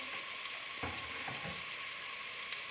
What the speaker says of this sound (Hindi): और इन्हें अच्छी तरह से आप फिर से फ्राई कर लें